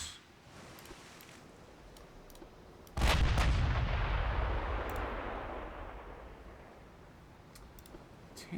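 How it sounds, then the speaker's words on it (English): In a 1930s naval battle video game, torpedoes launch with a sudden heavy boom and rushing burst that slowly fades over several seconds, after a quiet stretch of ambient sea noise. "Fire the torps."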